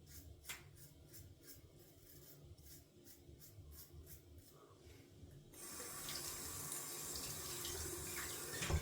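Water runs steadily into a bathroom sink and down the drain after a wet shave, a continuous close rushing that swells louder about halfway through, with faint rubbing and small handling noises underneath and no talking.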